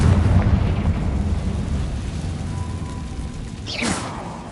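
A Confringo blasting spell goes off in Hogwarts Legacy, a heavy low rumbling blast that opens loud and slowly decays, followed near the end by a brief bright whooshing burst.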